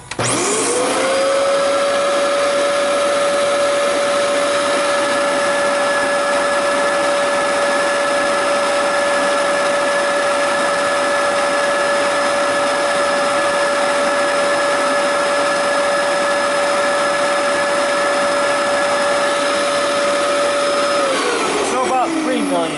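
A Dyson DC07 upright vacuum cleaner, the first Dyson upright sold in the US, runs steadily with a loud, even motor whine that ramps up at the start and winds down at the end, heard alone.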